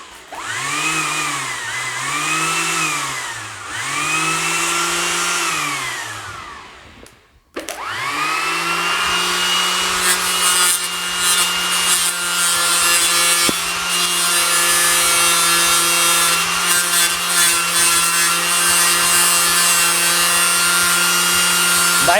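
A sheet of paper rubbed back and forth against a wooden stick to saw through it, giving a steady, close, continuous grating rasp, with rhythmic strokes early on and then a long unbroken scrape, no talk.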